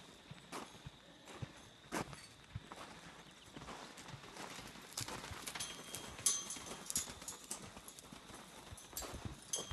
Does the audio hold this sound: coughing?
no